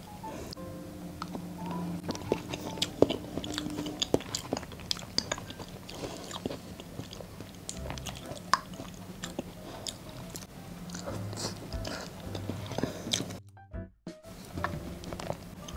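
Close-miked ASMR eating of an Oreo pudding dessert: soft, moist chewing and biting with irregular small crunches. It stays quiet and steady, with no talking.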